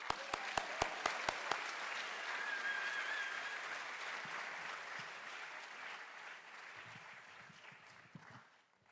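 An audience at a 2023 College of Engineering welcome event greets speaker Anna Davis with sustained applause, opening with a few sharp nearby claps and then swelling into a broad, steady wash that gradually fades.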